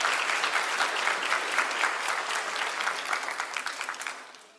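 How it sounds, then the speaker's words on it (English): Audience at a live AI innovations event applauding: dense, crackling clapping from many hands, fairly close, sustained for several seconds before tapering off. "Give yourselves a round of applause, everybody."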